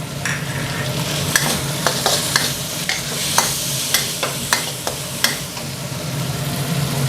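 Chili stir-fried in a wok for Thai basil minced pork, with a steady loud sizzle and frequent sharp clanks of the spatula against the pan, and no voices.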